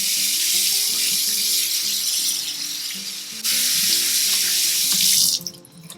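Cooked fusilli pasta rinsed under a cold running tap at a kitchen sink, a steady loud rush of water for about five seconds that breaks briefly, resumes, then cuts off near the end; no one speaks.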